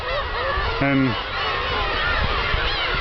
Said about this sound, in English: more seagulls everywhere.